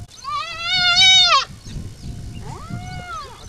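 A lamb bleats twice: first a loud, long, wavering cry, then a shorter, softer one after a brief pause.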